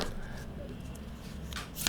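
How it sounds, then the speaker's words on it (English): Cards of a Baba Studios Mythical Creatures tarot deck with standard cardstock are shuffled, giving soft, continuous riffling and rustling close by, with a sharper flutter of cards near the end. "I'm gonna shuffle the cards now and let it go"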